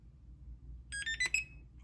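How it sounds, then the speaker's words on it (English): Short electronic beeps from a portable printer powering on ring out clearly over a faint low hum: a quick pair of tones, then a brighter sustained beep that fades. "Hold it until you hear the beep."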